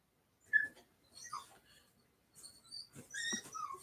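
A dog whimpers in a few short, high, nasal whines and yips, coming in separate bursts with quiet gaps between them, fairly close and moderately loud.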